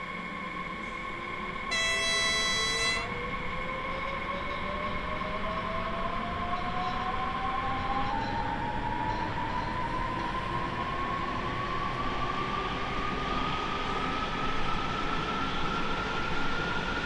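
A Frankfurt S-Bahn electric commuter train in Train Sim World 5, heard from outside: a steady rumble and hiss with a motor whine that climbs in pitch, and a short horn toot near the start.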